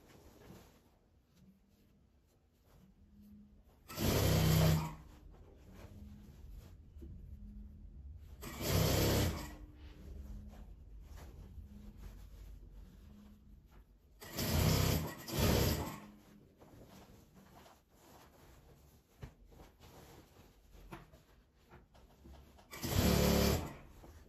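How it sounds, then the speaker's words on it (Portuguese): Sewing machine stitching a seam to close the opening of a reversible double-faced fabric bag, heard in four short loud bursts of rapid stitching separated by quiet pauses. "vou passar uma costura fechando a boca da bolsa toda."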